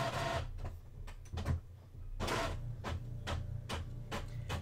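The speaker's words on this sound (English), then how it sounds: "It's printing out right now." An ordinary home printer printing onto copy paper, a series of sharp rhythmic mechanical clicks and whirring feed pulses, fairly close and alone.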